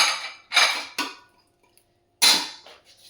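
Washed kitchen utensils, pots and dishes being put away, three or four close clattering knocks and clinks separated by brief quiet pauses.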